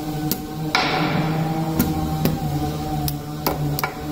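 Sharp metallic taps from a small hammer seating a part on a diesel locomotive turbocharger, about seven irregular strikes spread over a few seconds over a steady low hum.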